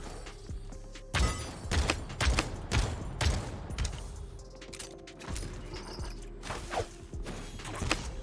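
Bursts of gunfire from the online battle royale game Realm Royale Reforged, several sharp shots and short volleys scattered across the stretch, mixed with footsteps, mechanical clicks and whooshes, loud and close.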